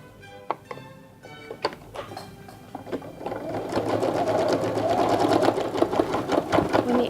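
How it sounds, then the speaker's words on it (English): A sewing machine stitches across a hole in a fabric flower hat. A few soft thunks come first, then a steady, close, rapid mechanical whirr and chatter that runs to the end. "then I'll sew across the hole, catching the stem in the seam."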